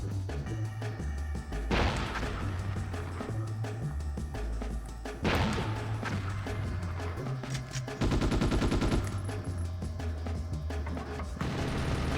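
Turrets firing in the PS2 game Ghost in the Shell: continuous heavy automatic gunfire over a steady game soundtrack, with a few louder bursts and a dense rattling volley near the end, loud and unbroken without talk.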